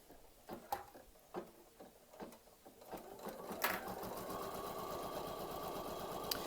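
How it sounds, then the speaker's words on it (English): Embroidery sewing machine stitching gold thread in a quilting stitch on an in-the-hoop towel topper. Scattered clicks give way to a steady rapid mechanical whir with a fast needle rhythm that runs on close and moderately loud. "So we're just going to turn the quilting stitch on and let it go."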